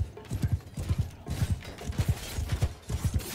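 Horse hooves clip-clop in a steady, fairly close rhythm of paired beats in the Bannerlord Shokuho mod, with faint battle noise behind.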